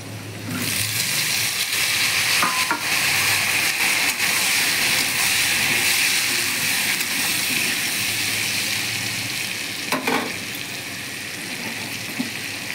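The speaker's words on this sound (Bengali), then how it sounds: "তার মধ্যে পটলগুলো ভেজে নেব একলগে।" Potatoes and pointed gourd fry in hot oil in a pan for a soybean curry, giving a loud, steady sizzle that continues without a break, close up and with no talk.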